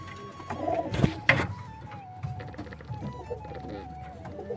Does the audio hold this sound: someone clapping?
no